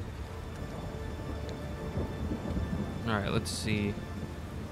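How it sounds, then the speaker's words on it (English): Rain falls steadily in a Roblox game during a storm in River City, a soft, continuous hiss beneath someone talking briefly. "It is raining, but that seems to be about it."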